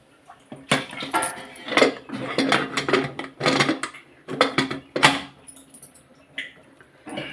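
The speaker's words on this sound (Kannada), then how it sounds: "ಕುಕ್ಕರ್ ಮುಚ್ಚಿರ್ತೀನಿ" A metal pressure cooker holding rice is closed with its lid in a home kitchen, making a run of close, sharp metallic clanks, rattles and scrapes in irregular bursts over several seconds.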